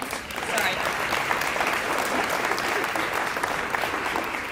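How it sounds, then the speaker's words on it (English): A school audience at a high school honors night applauds the runners, a steady dense wash of clapping held throughout at fairly close range, with a voice faintly audible beneath it. "let's give them a round of applause"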